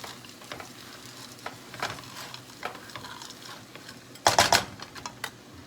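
Cauliflower rice fries in butter with a low, steady sizzle under repeated scraping strokes of a spatula, including a louder burst of clattering stirring near the end, with no talk.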